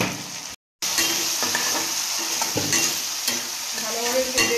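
Prawns coated in turmeric, cumin and coriander powder fry in a small pan with a loud, steady sizzle and repeated close stirring scrapes, after a brief silent gap at the start.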